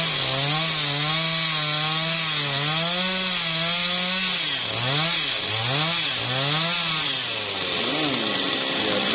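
A chainsaw cuts through a fruit-laden jackfruit tree, its loud, close engine whine holding steady and then dipping and surging in pitch as the chain bites into the wood.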